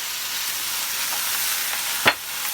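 Chicken strips marinated in oil fry in a pan with a steady, close sizzle throughout, broken by one brief louder crackle or clatter near the end; no voices.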